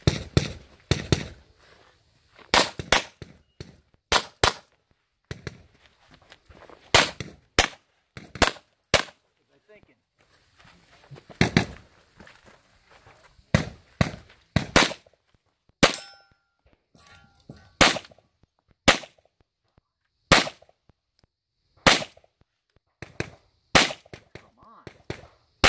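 Gunshots ring out at a cowboy action two-gun shooting match, loud sharp reports in irregular bursts with metallic clangs of targets being hit, spread through the stretch with short pauses between strings.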